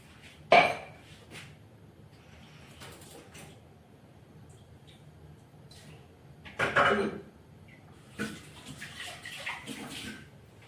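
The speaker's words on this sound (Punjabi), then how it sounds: "ਥੋੜਾ ਜਿਹਾ ਪਾਣੀ ਪਾ ਦਿੰਨੇ ਵਿੱਚ" Water poured into coarsely ground rice for firni: a few short splashy pours, one at the start and a longer one midway, with faint clinks of a pot between quiet gaps.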